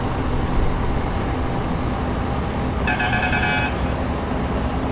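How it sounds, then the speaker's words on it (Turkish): A truck horn sounds in Euro Truck Simulator 2 on a Ural cement mixer truck. It gives a bright, multi-tone blast of about a second over a steady engine and road rumble, with no talk. "Bu arada korna çok ilginç değil mi arkadaşlar? Hiç böyle bir korna duydunuz mu?"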